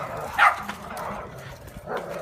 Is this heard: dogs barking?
yes